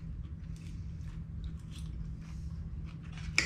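Close-up bites and chewing of a crunchy lobster cake, soft crackly crunches repeating irregularly over quiet background, ending with a sharper crisp snap.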